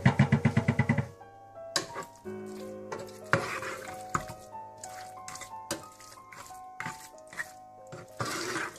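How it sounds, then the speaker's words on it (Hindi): A cauliflower and meat curry (gobi gosht) being stirred in a pot, starting with a rapid burst of scraping strokes, then softer intermittent clinks and scrapes over faint background music. "अब इसे मैं अच्छी तरह से मिला लूंगी।"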